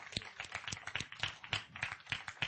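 An audience at a camp session applauds, a quick run of sharp, fairly faint claps spread across a roomful of hands without a pause.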